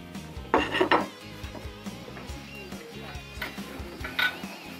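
Dishes and cutlery clink while barbecue-grilled sea bream is plated, with a cluster of bright metallic knocks early on and lighter clinks afterwards, close and fairly loud, with no speech.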